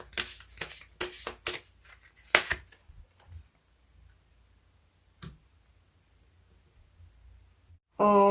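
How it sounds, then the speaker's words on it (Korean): Tarot cards shuffled by hand in quick bursts of riffling and flicking for the first few seconds, then sparse soft taps and near silence, ending with an abrupt loud burst of sound. "조언점 카드 하나 더 뽑아보도록 할게요"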